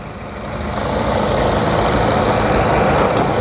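A 2500cc four-cylinder SUV engine idles close by, a loud, even rumble that swells slightly at the start and then holds steady with no talk.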